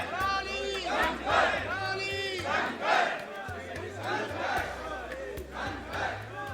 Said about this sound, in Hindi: भारी भीड़ है जो हमारे पीछे है, और करौली शंकर के नारे लगाए जा रहे हैं